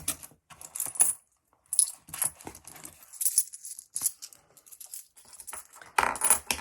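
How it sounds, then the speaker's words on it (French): Coins being sorted and handled by hand while cash is counted out for budget envelopes, giving repeated bright metallic clinks and jangles in short bursts, fairly close, with no talking. "Je vais virer un peu de la pièce là."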